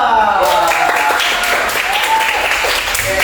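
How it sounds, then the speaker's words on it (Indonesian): Applause from a classroom of students for group 2, a dense steady patter of many hands clapping throughout, close and fairly loud, with some voices mixed in. "kita beri aplaus untuk kelompok 2"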